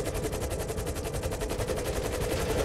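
Automatic gunfire from a video game erupts in one rapid, evenly spaced burst of shots, close and loud, lasting unbroken for nearly three seconds.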